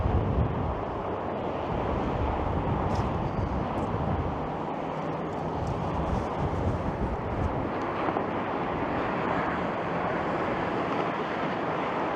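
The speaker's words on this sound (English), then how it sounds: "And it is pretty windy right now." Steady, roaring wind buffets the microphone near the Bloor Viaduct in Toronto throughout, a constant loud rush with no pauses and no talking.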